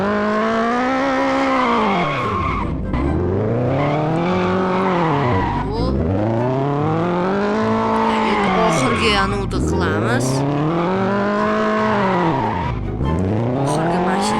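A car drifts in the Extreme Car Driving video game, its engine rising and falling in repeated revving sweeps while the tires squeal continuously, loud and close, as someone talks briefly over it.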